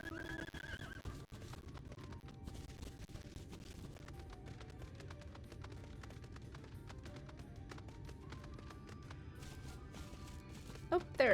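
A horse galloping in Final Fantasy 14, with rapid faint hoofbeats running steadily under quiet game ambience and a brief louder sound at the end.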